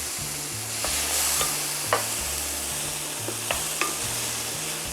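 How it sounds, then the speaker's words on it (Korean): Ssamjang soybean paste being stir-fried in a pan, with a steady low sizzle and a few sharp scrapes and clicks of a spoon against the pan. "이렇게 볶아주세요."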